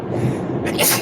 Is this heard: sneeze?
yes